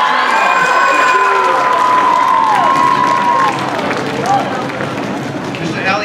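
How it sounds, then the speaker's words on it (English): A school talent show audience cheers and claps, with loud shouts and whoops over a wash of applause that is strongest at first and then eases slightly. "Give me a nice round of applause."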